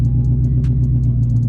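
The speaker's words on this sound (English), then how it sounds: "And you hear the car adjusting and doing what it's got to do." A twin-turbo Mustang idles in its ghost cam setting, a loud, deep, steady engine rumble close by with faint ticking on top.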